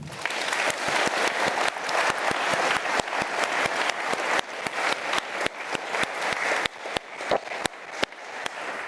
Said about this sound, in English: can I have a round of applause for Sumit first?